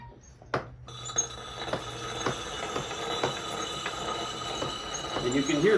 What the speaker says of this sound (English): you can hear the little bumps in the noise of the axe head going across the stone